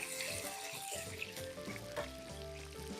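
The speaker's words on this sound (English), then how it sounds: "Let's give this a bit of a stir." Potatoes frying in a pan while being stirred, a soft continuous sizzle broken by the scrape and shuffle of a spatula, close and fairly quiet, with no voices.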